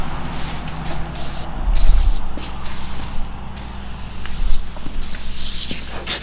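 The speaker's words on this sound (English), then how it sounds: "So now we're going to go ahead and spray the engine out." Cleaner sprays onto the 4.0 engine of a car in steady hissing bursts, close and loud, broken by short pauses, with faint low rumbling underneath.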